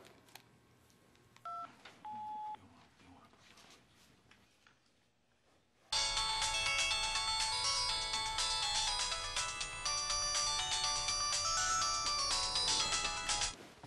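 A few faint beeps and tones, then a loud, bright phone ringtone rings continuously and close by for the remaining several seconds.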